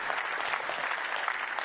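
A keynote audience breaks into dense, continuous applause, many hands clapping at once in a large hall, loud and sustained throughout.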